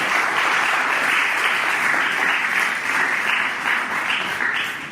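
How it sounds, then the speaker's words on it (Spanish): A church congregation applauds steadily and loudly throughout, a dense wash of many hands clapping with no pauses. "denle un aplauso fuerte al Señor"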